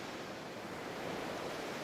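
Rushing, bubbling water from a sea serpent's bubble beam underwater in Minecraft, a steady broadband wash of churning bubbles and surf-like noise running unbroken and fairly soft throughout.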